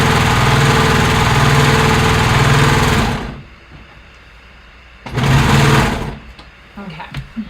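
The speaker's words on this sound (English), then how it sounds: "I'm gonna just run it through the serger" A serger overlocker sewing machine runs loud and steady for about three seconds, stops, then buzzes again in a second short burst, with a few faint clicks after and brief talk in between.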